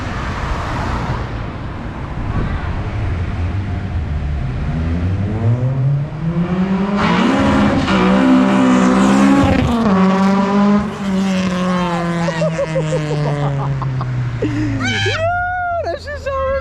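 A tuned Honda with a K24 engine revs hard and launches at a car meet, its loud rising engine note sweeping up then easing off, with tire squeal and a brief chirp near the end, as voices talk over it throughout.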